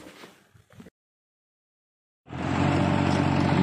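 A 45 hp farm tractor, a Mahindra 475 Bhoomiputra or a Same, starts up after a short silence and settles into a loud, steady diesel running sound that continues to the end.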